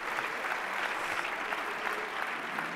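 A parliamentary group in the French National Assembly gives a standing ovation, a dense, steady wash of many hands clapping that holds evenly throughout.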